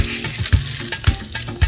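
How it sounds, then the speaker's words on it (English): Salmon cakes fry in a pan of hot butter and oil, a close, steady sizzle punctuated by a few soft thumps and clinks as they are placed and moved. "I'm just gonna heat up some butter and oil together so I can fry the salmon cakes."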